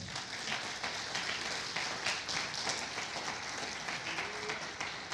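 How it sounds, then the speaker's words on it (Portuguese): A church congregation claps together in sustained applause for the Lord, a dense steady wash of hands at moderate distance with no talking over it. "Dá uma salva de palmas para o Senhor."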